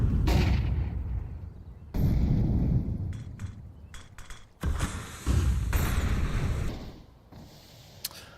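Grenades exploding in Rainbow Six Siege: heavy booming blasts and low rumbles strike in several separate bursts, with gunfire-like cracks and debris crackle between them, loud and close.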